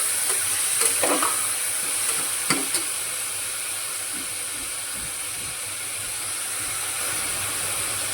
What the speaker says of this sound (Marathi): तुम्ही याला कमी जास्त पण करू शकता, मस्त असं मिक्स करून घ्यायचं